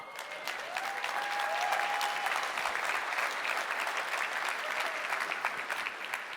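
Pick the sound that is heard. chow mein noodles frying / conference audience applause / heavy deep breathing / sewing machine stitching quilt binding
conference audience applause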